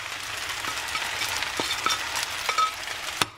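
Crumbled egg stirred into chicken pad see ew in a hot pan: soft continuous sizzling with scraping utensil strokes and a few light clicks, close up, with no talking.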